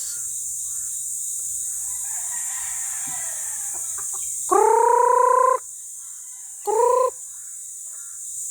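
A red rooster crows loudly nearby, one long full crow followed by a shorter second one, over quiet farmyard background with faint clucking before.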